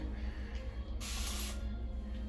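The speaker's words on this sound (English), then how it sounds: "Spray across the back." One short spray of aloe vera water from a spray bottle onto the back of the hair, a crisp close hiss lasting about half a second over a low steady background hum.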